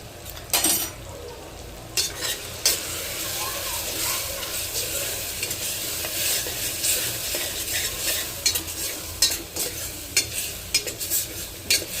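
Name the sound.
spices roasting and being stirred in a pan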